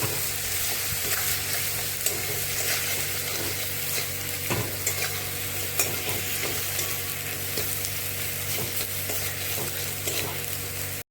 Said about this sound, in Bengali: সমস্ত কিছু এখন একটু সময় ভেজে নেব।